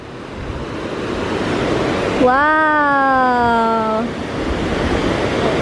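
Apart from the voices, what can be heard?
powerful water waves at a beach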